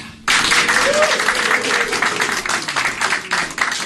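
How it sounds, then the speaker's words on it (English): An audience at a stage hypnosis show breaks into sudden loud applause and cheering that sustains steadily throughout, with dense clapping and crowd noise close by. "please put your hands together, give us a nice big cheer"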